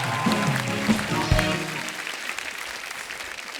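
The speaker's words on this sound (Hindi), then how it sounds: "जोरदार तालियां हो जाए।" A crowd claps and cheers loudly at the start, with a voice briefly over it, then the applause thins out and fades toward the end.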